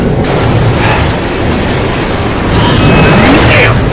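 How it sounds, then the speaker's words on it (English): A loud blast booms out as a shot is fired at a lock in a Star Trek video game, a dense burst of noise followed by a rumbling tail and a second surge near the end. "Spock! shoot the lock."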